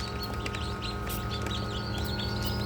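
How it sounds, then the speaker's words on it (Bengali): Newly hatched farm and native chicken chicks chirp in a rapid, overlapping chorus over a constant low mechanical hum. "এগুলো হচ্ছে ফার্মি ও দেশি মুরগির বাচ্চা"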